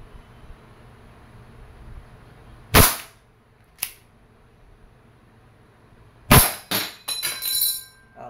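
An Umarex Legends S25 airgun revolver fires in double action: sharp, loud cracks near the microphone, with a fainter click between them and a rapid cluster of metallic shots and clatter toward the end.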